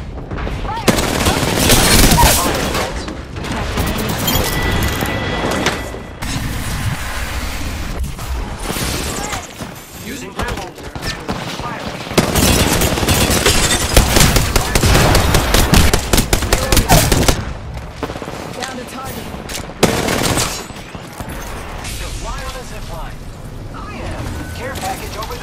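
Apex Legends gunfire, dense bursts of automatic weapon fire and mechanical reload clatter that go on for a long stretch, loud and close, with game voices and player speech mixed in.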